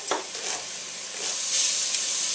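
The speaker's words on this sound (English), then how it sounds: "we're just heating up this bacon, trying to get some of that fat rendered off of it" Bacon sizzling in a pan as its fat renders, a dense continuous hiss and crackle that swells gradually, close and steady with no talking.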